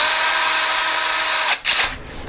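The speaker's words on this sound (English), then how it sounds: "we're going to drill a very small pilot hole in the wall now" Power drill boring a very small pilot hole into a bathroom wall: one loud, steady high whine lasting about a second and a half, then a brief stop and a short final burst that fades out.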